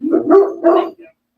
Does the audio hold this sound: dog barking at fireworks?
yes